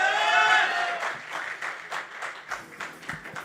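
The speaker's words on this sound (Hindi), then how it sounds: "अरे सर प्लीज तालियां भाई" Applause from an audience at a result celebration event: a burst of many hands clapping together, loud and dense at first and then settling into a steady patter, close and continuous with no talking over it.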